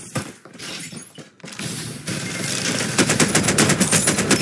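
Rapid bursts of automatic gunfire in the shooter game Farlight 84, starting with scattered shots and breaking glass, then swelling into loud, sustained rattling volleys in the second half, with no talk.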